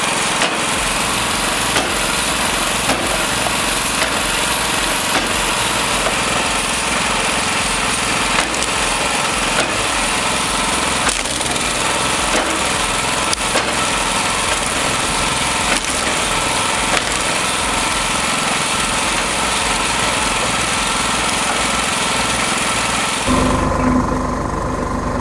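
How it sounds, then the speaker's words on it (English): A wood chipper mounted on a TZ4K compact tractor runs loud and steady, its engine droning under a continuous rough grinding and crunching of branches, before the noise drops away near the end. "check out this wood chipper in action on a TZ4K tractor"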